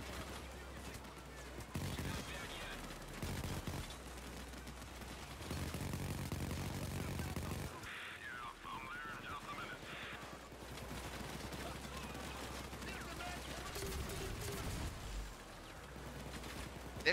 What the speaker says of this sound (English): there's a turret here.